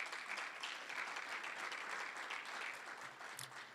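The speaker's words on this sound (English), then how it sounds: "Let's give them a big round of applause" Applause breaks out from the audience after a fireside chat at the Bridge Forum in Indianapolis. Sustained, even clapping fills the room for a few seconds at a fairly soft level, and no talk is heard over it.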